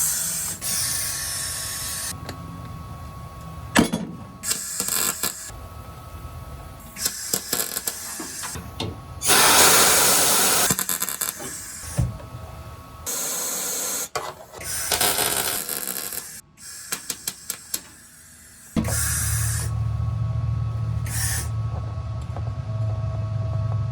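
A MIG welder tacking a formed rocker panel piece on a Cherokee-Rambler 4x4 build, bursts of crackling, buzzing arc separated by pauses, some sputtering as the shielding gas runs out, loud and close with shop noise between.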